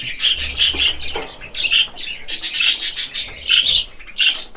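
A budgerigar chirps in rapid, high bursts, with soft wing flaps and rustling in between, close by and continuous with no talking.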